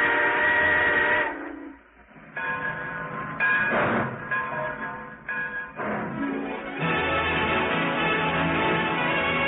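A radio-show sound effect of a steam train whistle: long, loud sustained blasts that drop out briefly a couple of times and then hold on, with a breathy hiss of steam mixed in.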